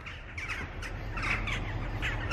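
Jackdaws call repeatedly, sharp nasal 'chak' notes overlapping in quick bursts at moderate distance outdoors, with no talking.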